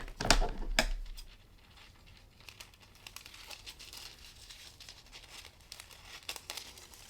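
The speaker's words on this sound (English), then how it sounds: "I am going to grab a silver holographic foil and cut us a piece." Silver holographic foil crinkles and crackles close by as it is handled and cut for card making, with two sharp crumpling bursts at the start followed by lighter intermittent rustling and snips.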